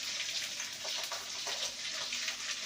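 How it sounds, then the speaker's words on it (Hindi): Fish pieces frying in hot oil in a pan in a home kitchen, giving a steady, soft, broadband sizzle with faint crackling pops throughout. The sizzle sounds fairly close but quiet, with no voices. "संगवारी सब मछली फ्राई होके बस मुंडी बस बचे है"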